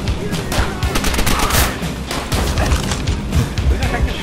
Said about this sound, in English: there's an MG42 in here, if you want it